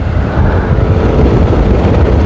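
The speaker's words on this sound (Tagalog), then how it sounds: "Napakalakas ng hangin." Loud, steady low rumble of strong wind buffeting the microphone at a cycling race, continuous and roaring with no talking.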